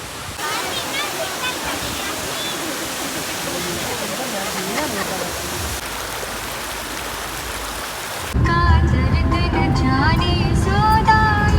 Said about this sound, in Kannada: ನೀರಿನ ಅವಾಜ್